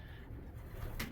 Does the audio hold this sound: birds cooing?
yes